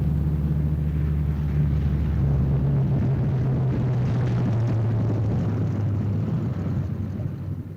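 A World War II heavy bomber approaches to land with its left inboard engine dead, a steady low propeller-engine drone with a strong hum holding loud throughout and easing slightly at the end.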